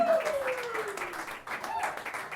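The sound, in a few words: comedy club audience applause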